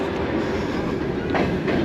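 A post-Soviet sleeper train in Kyrgyzstan rolls steadily along the rails, heard from inside the carriage as a continuous low rumble with faint rhythmic clacks.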